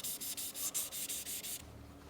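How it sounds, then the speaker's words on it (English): Wet sanding a race foil by hand with wet sandpaper, working up through P800, P1200 and 2000 grits, heard as a steady run of about nine rhythmic back-and-forth rubbing strokes close by, then stopping. "Now I'm using wet sandpaper and sanding with grit"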